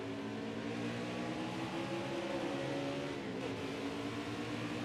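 Race car engines in the NASCAR Heat 5 video game, modded Xfinity Series, drone in a layered whine that dips in pitch as they drop to second gear through a turn, steady and moderately loud without talk.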